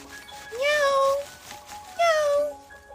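A voice imitates a cat meowing, two drawn-out rising and falling meows close to the microphone, each about half a second long with a short pause between them.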